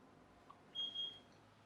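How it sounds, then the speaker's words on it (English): Electronic beeping from a kitchen appliance signalling that tea is ready, a short steady high tone sounding twice in quick succession, faint and somewhat distant in a quiet room. "that beeping noise is my tea's ready"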